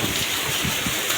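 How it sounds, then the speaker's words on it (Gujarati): Heavy rain pouring down during a downpour in Botad, Gujarat, a steady, dense, loud hiss that fills the whole stretch with no break and no voices. "દેખાતું નથી એવો વરસાદ પડે"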